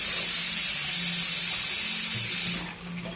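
Curry leaves hiss and sizzle loudly in hot oil for a tempering of Indian gooseberry pickle, a steady spattering roar that drops away abruptly near the end.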